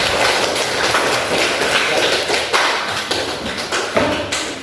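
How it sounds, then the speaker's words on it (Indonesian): Students in a classroom clap together in a dense, steady burst of applause that holds for several seconds at close range. "Kasih aplaus untuk kalian."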